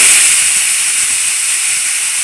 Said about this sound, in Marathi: कुकरचं झाकण लावून याच्या आपल्याला 3 शिट्ट्या काढून घ्यायच्या आहेत